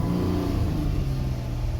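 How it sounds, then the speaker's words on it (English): A car engine with a faulty throttle body (codes P2101, P2110, P2118) revs steadily under the gas pedal, a loud close rumbling drone held under throttle with no voices. "I'm pressing on the gas pedal."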